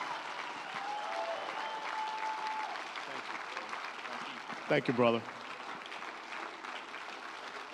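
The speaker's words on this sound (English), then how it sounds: "Would you please give him a round of applause as he comes today?" A church audience gives loud, sustained applause to welcome a guest speaker, filling the room for several seconds before someone briefly speaks near the microphone as the clapping fades.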